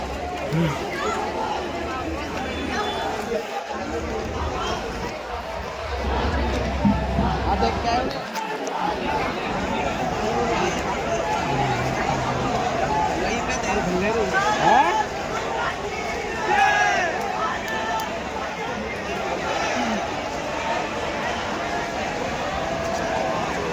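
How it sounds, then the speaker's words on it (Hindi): A large outdoor crowd at Jantar Mantar in Delhi fills the air with a constant murmur of overlapping voices and shouts, with occasional louder calls and movement noise close by. "ये देखो हजारों को भीड़ आ गई।"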